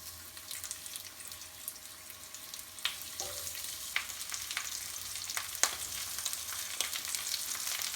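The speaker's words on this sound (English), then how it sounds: "Now it's on to fry the veggies." Vegetables fry in a pan with a soft, continuous crackling sizzle and scattered sharper pops and ticks, heard close and alone.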